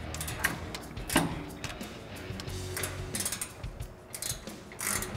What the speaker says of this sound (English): same process, 18 and 19 millimeter wrenches